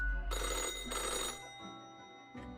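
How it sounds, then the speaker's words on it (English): An old-fashioned telephone in an office rings loudly in two long bursts and then starts a third, each ring a bright metallic jangle with short gaps between, close and clear over a low background hum. "The old-fashioned phone rings again, right as you settle in."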